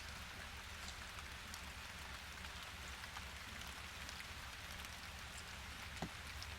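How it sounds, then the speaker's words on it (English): Steady rainfall in the video game Interstellar Marines, a dense even hiss of drops pattering on surfaces, constant and moderately quiet with no voices. "It's raining."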